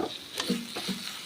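Curry leaf and bhedailota paste hit hot oil in a pan, giving a brief close sizzle with light stirring scrapes and soft crackles.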